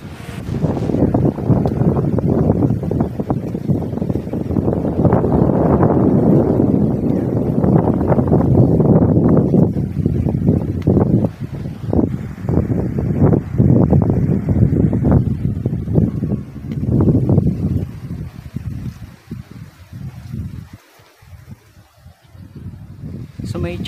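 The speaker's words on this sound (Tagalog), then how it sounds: "Grabe, ang lakas ng hangin." Strong wind buffeting the microphone at a hilltop sanctuary, a loud continuous roar that swells and falls in gusts, easing near the end, with a voice speaking briefly amid it.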